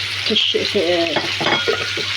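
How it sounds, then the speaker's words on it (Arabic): Loud, steady sizzling of liver frying in hot oil, with soft stirring and scraping sounds in the pan. "هنزل بقى بالكبده اشوحها الاول"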